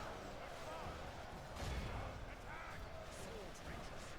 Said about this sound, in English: What is shooting at us so much? Ah, Wild Raiders, missile cav.